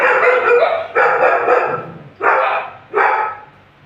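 A dog barks at a grille gate of a resale house in Avadi, four loud, close barks spaced about a second apart, each one falling away into a brief whimpering tail.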